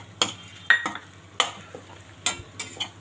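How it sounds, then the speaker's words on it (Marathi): Edible gum and makhana fry in ghee over low to medium flame, with a soft sizzle broken by four or five sharp spoon scrapes and clinks against the pan at irregular intervals, close and fairly quiet. "आपल्याला हे छान तळून घ्यायचं आहे तुपामध्ये"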